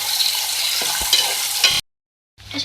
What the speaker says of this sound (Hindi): मेरे पास आलू थे मीडियम साइज़ के, तो डाल के इसको भी फ्राई करेंगे।